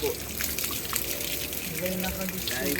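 Spring water at a grotto gushes and splashes continuously, a fairly close, steady rush with voices faintly in the background.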